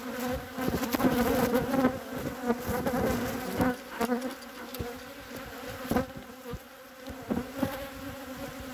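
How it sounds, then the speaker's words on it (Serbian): Honeybees buzzing densely around beehives in an apiary where a smoker is in use, a loud, continuous drone with individual bees zipping close past the microphone. "Evo pčela, evo dimilica."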